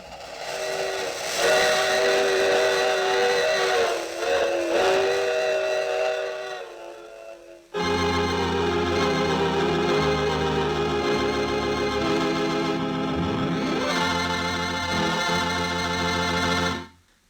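A loud radio-drama train whistle blows in long sustained tones, then a train rumbles and clatters on with repeated whistle blasts, close and prominent.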